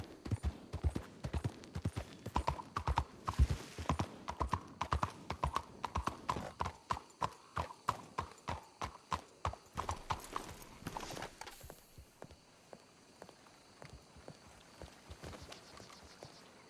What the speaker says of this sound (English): Oh, there's a horse there